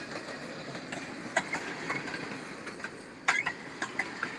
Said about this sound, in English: Here's our end of train here on our southbound manifest.